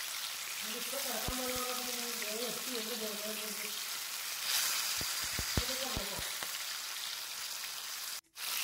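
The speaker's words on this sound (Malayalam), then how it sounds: "അതെടുത്തിട്ട് നമുക്കൊന്ന് പൊരിച്ചെടുക്കണം" Marinated chicken sizzles in a hot pan with a steady hiss, broken by a few sharp pops and crackles, while a person talks over it at the start.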